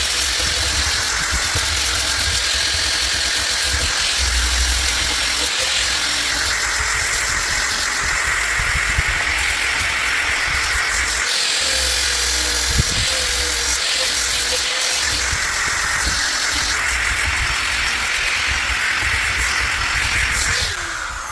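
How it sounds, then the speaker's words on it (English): A DeWalt power sander with coarse grit runs continuously over a cherry wood bench, easing its sharp edges, a loud steady whirring drone close by that scarcely varies for the whole stretch. "we got the DeWalt power sander here. We're just gonna take all the sharp edges off."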